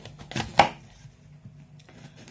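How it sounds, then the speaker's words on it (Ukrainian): A few sharp knife strikes on a cutting board chopping onion, close by, with short pauses between cuts and quiet kitchen background. "Поки у мене обсмажуються кабачки, я наріжу цибульку."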